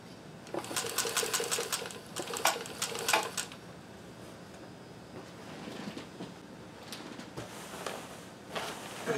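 A sewing machine stitches ribbon work in straight runs, its rapid mechanical chatter coming in close, loud bursts early on and again later, with quieter handling sounds between the runs.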